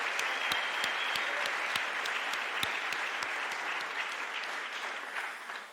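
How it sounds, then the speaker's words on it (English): Audience applause for school students at a performing arts showcase launch evening, a steady dense clapping that stays loud throughout and fades slightly at the end, with no talk over it. "Let's give a round of applause for those students."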